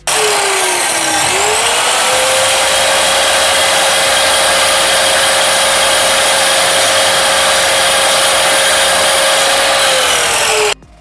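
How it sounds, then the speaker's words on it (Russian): A power saw runs in one steady, loud, high whine for about ten seconds while cutting a small kerf into a door frame, then stops abruptly. "делаем небольшой пропил до узкой части"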